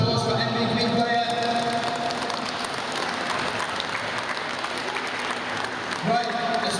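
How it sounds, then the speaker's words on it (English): A crowd applauding the MVP player at a wheelchair rugby plate cup final, a sustained dense clatter of clapping that fills the whole stretch at steady loudness. "So round of applause for MVP player"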